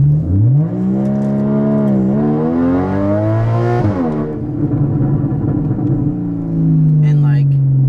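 Porsche 981 Cayman in sport mode at full throttle in first gear, engine note rising steadily then hanging and wavering around mid revs, loud exhaust drone with strong harmonics, a brief dip and recovery as it lingers.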